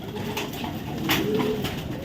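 Racing pigeons in a loft coo softly and repeatedly, close by, their low throaty calls overlapping for a couple of seconds.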